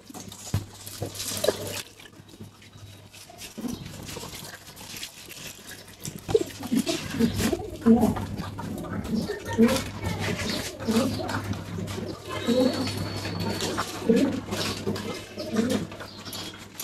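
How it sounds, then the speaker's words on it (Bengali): Pigeons coo in low, repeated murmurs at an outdoor pigeon loft, moderately near and fairly soft, alongside a faint steady hum and occasional rustling. "এই যে কিন্তু দুটো কবুতর এসে নামলো।"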